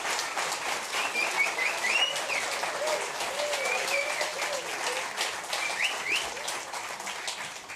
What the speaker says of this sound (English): We appreciate the applause.